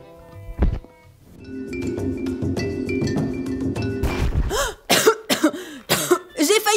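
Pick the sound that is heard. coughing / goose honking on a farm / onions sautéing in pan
coughing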